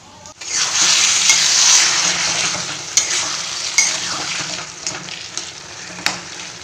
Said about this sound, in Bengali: কচুর শাকটা রান্না করছি